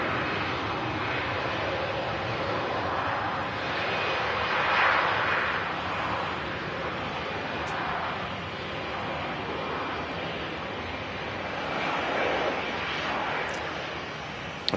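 An EasyJet airliner taxiing at Manchester Airport, a steady broad jet-engine roar at middle distance with gentle swells in loudness, heard continuously.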